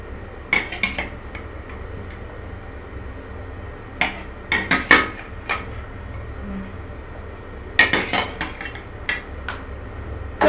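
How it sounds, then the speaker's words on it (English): Garlic, egg and okra drop into a pot of fish soup, giving scattered clinks and taps of utensil against pot. The sounds come in small clusters over a low background hum, close and moderately loud, with no talking. "Then I'll now put garlic egg and okra in."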